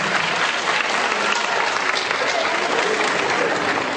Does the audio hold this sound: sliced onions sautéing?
no